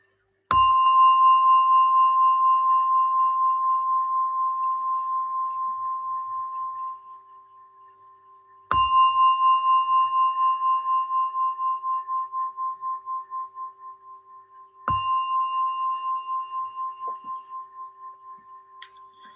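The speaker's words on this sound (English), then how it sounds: "with the sound of a gong, you can come out from meditation" Meditation gong or bell struck three times at spaced intervals, each a sharp clear strike followed by a long, steadily decaying ringing tone in an otherwise quiet setting.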